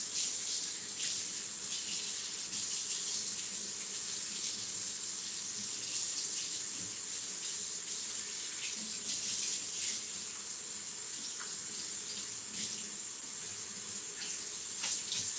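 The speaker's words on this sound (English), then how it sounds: "So let me wash this off." Tap water running steadily into a sink while soap is rinsed off a utensil, a continuous close hissing splash with small fluctuations in the stream, no voices.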